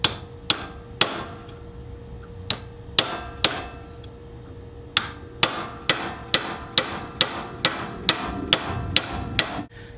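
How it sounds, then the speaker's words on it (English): Hammer striking a punch to drive out a retaining pin while fitting an electronic ignition module, sharp metallic taps at irregular spacing, then a quicker run of evenly spaced blows, close and clear with no talk. "We will need to use a punch to push out the retaining pin, drop the gear, and put in 2 shims."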